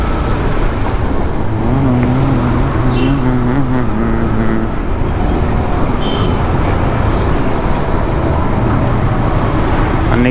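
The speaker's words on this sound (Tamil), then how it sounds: "ஐயோ, இந்த லாரியை ஓவர்டேக் பண்ணிட்டா கொஞ்சம் ஸ்பீடாக போயிடலான்னு பார்த்தா" A Yamaha MT-15 V2 motorcycle rides in road traffic behind a lorry, giving a loud, steady roar of engine and wind noise with a low droning hum throughout, no talk.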